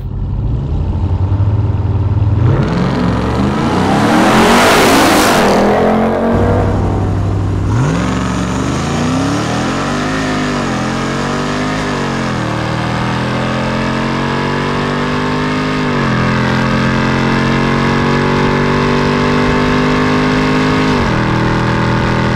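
Hennessey Mammoth 1000 TRX pickup truck on 37-inch tires in 100-degree heat revving hard and accelerating in a race, a loud sustained engine roar with rising gear pulls and shifts, close and steady throughout.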